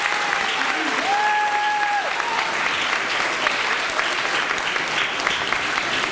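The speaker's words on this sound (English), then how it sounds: "Let's give Mr. Paholski a round of applause for the work he's done." An audience at a school meeting gives a round of applause, a loud, steady wash of clapping that fills the whole stretch, with a faint tone or whistle briefly audible over it.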